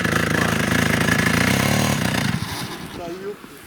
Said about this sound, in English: Hang on, it's the gasoline motor